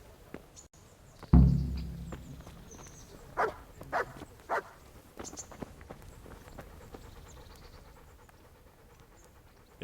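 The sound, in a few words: dog panting, from video game Kingdom Come Deliverance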